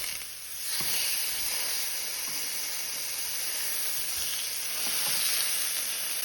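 Swordfish steaks fry in a pan with a steady, close broadband sizzle and hiss, a few soft clicks and scrapes from the flip breaking through the continuous crackle.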